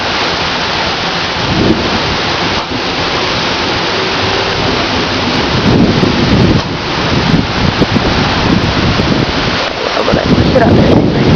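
Heavy pouring rain during a thunderstorm, a loud dense roar of rain with gusting wind buffeting the microphone, steady and continuous throughout.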